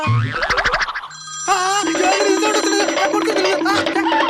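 A loud electronic phone ringtone plays a repeating bright melody, continuing for several seconds close by.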